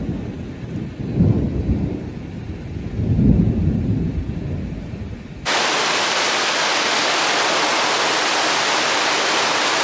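Warm rain falling in a thunderstorm with lightning striking close by: two deep rolling thunder rumbles over light rain, then an abrupt switch to a loud, steady, hissing downpour close to the listener.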